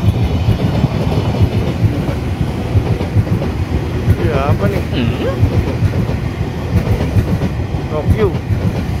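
A convoy of decommissioned trains rumbles past nearby Jatinegara Station with a steady, loud roar and faint rhythmic clatter, a few voices briefly audible over it.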